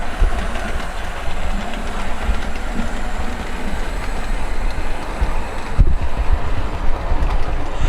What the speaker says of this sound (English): here's the second train, guys. It's the Hornby LNR P2 Cock of the North with some Hornby teak coaches.